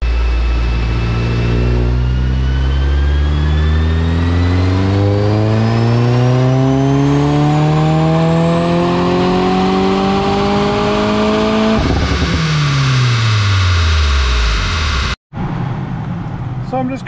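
A 2022 Subaru WRX with an upgraded Blouch turbo and electronic wastegate tuning revs loud and close, its engine note climbing steadily for about twelve seconds before dropping off and cutting out briefly near the end.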